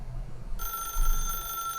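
A telephone rings in The Stanley Parable, a sudden bright electronic trill that starts partway in and keeps going steadily over a low background hum, fairly loud and close, with no talking.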